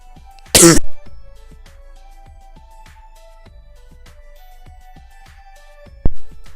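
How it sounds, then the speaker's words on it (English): A single sudden cough from someone who is sick bursts out loud near the start, followed by quiet room sound, faint clicks and a sharp knock near the end. "Hold up, gotta cough because I am getting pretty sick."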